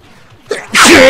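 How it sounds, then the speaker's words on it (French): A single loud, close sneeze from a man, a short sharp inhale followed by a forceful explosive burst. "je vais éternuer."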